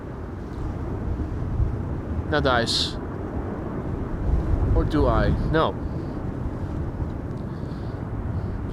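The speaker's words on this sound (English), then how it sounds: "TAP Air Portugal, flight 668, A321neo, arriving from Lisbon" A TAP Air Portugal Airbus A321neo arriving at Amsterdam Schiphol in windy weather, a steady low jet rumble mixed with wind buffeting the microphone, while a person talks briefly nearby.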